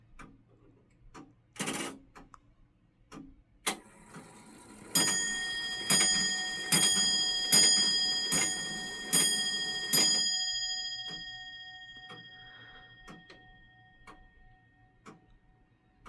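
An 1840s English longcase clock sounds a run of about seven evenly spaced, ringing bell strokes, each decaying into the next, preceded by a few mechanical clunks and followed by a fading hum.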